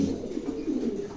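A pair of male pigeons of the same breed coo at a pigeon sale, with soft, low, rolling coos repeating close by and no talking.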